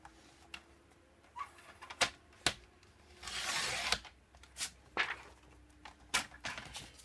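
Paper is cut to size for a handmade autumn mini album, giving a few sharp, quiet snips and a longer slicing swish in a hushed room.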